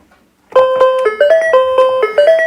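A Super Copycat toy sounding after a button press, a loud, bright electronic chime melody of stepped tones in quick succession, starting after a brief quiet moment, with no voices.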